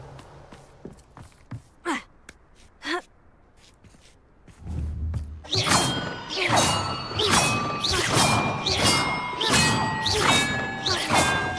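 Bells rung in the Hogwarts Legacy video game: a loud run of repeated struck, ringing bell tones that overlap one another, following a few quieter swishes and thumps.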